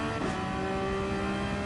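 A GT3 race car engine droning steadily in a racing video game, a brief loud burst at the start settling into a sustained tonal whine with no voices.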